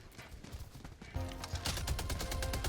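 An automatic turret in Helldivers 2 opens up with rapid, continuous bursts of gunfire that grow louder partway through, sounding steady and mechanical at mid distance.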